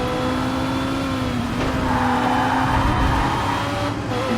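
A DTM racing car in the video game TOCA Race Driver 3 holds a loud, steady engine drone while it brakes. Faint tire squeal and skidding sit under the engine tone.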